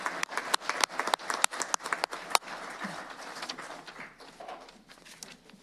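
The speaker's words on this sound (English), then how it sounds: "Let's give everyone honored tonight a big round of applause." Applause from a school board meeting audience: a burst of sharp, irregular claps that thins out and fades over several seconds.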